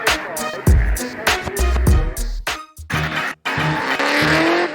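Drift cars at a Super Drift and Drift Australia event skid with tires squealing over roaring, revving engines, loud and close, in bursts with short gaps.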